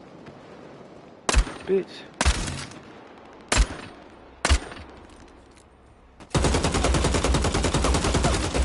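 Four sharp, loud sniper rifle shots ring out at irregular intervals in the video game Bloodhunt, with a brief spoken word between them, followed by a sustained burst of rapid automatic gunfire.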